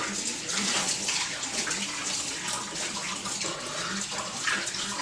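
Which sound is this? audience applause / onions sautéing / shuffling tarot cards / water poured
water poured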